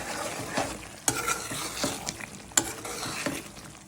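Fish pieces fry and sizzle in a pan while being cooked down for fish biryani, with a steady hiss broken by several sharp stirring scrapes and clinks of the spatula.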